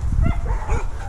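A runaway-prone dog gives a quick burst of close, loud barks and yips with a whimpering edge, over low background rumble.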